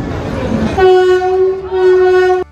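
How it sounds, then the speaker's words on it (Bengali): A Vande Bharat Express pulling out of a station sounds a loud, sustained horn blast lasting over a second and a half, preceded by a low rolling rumble of the train. "ট্রেনটা বেরিয়ে যাচ্ছিল স্টেশন থেকে"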